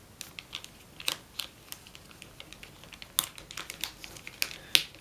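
Crisp origami paper being creased and folded into a Mockingjay model, with sharp papery clicks and crinkles in an irregular run of short taps, close to the microphone and without any talk.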